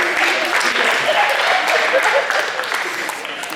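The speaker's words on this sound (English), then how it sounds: "Give yourselves a round of applause there." The audience at a high school post-prom show, during a Jeopardy-style game, claps for themselves in a loud, full burst that fades slightly toward the end, with crowd noise mixed in.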